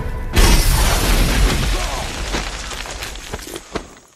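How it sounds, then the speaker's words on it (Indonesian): A cartoon dynamite explosion in an animated survival story: a sudden loud broadband blast opens the sound, then it rumbles and crackles as debris falls, with scattered pops and thuds fading over several seconds. "kakek itu pun buca terkena ledakan di cangcutnya, dua Kopet down."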